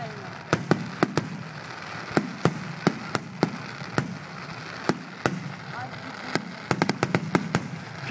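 Japanese festival fireworks at the Makuhari Hanabi display burst in sharp repeated cracks and booms, some spaced and some in quick clusters, with people talking underneath.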